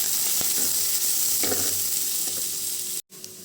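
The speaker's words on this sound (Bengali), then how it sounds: "একটু হালকা করে ভেজে নেব।" Cashews and pistachios sizzle lightly in hot ghee in a pan, a soft steady crackle with a couple of stirring scrapes, close up, cutting off abruptly near the end.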